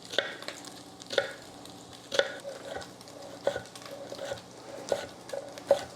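Pork searing and browning in a pan, a soft sizzle running underneath regular clinks and scrapes of a utensil stirring the meat, the knocks landing about once a second.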